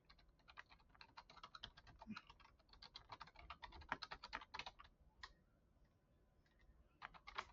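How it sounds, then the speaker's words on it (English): Someone types a message into a chatbot's message box on a computer keyboard, producing dense, quick key clicks in uneven bursts with a short pause before a final flurry, close and fairly quiet. "you click to type in the message box"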